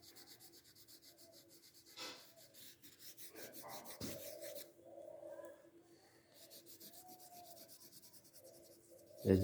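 Blue shading is rubbed over the sky of a scenery drawing of waterfalls and mountains, giving a soft, steady, close scratching of back-and-forth strokes with brief pauses between passes.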